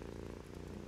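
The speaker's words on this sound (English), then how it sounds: "Listen to the cat purring." A soft, steady low rumbling purr from a cat in a VR video game, continuous and close, with no talking over it.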